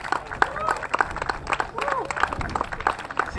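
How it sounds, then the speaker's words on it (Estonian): A crowd applauds a young motorcycle racer at an award ceremony at the Auto24ring circuit, a scattered outdoor round of clapping under someone speaking over a loudspeaker. "Aplaus noorele poisile."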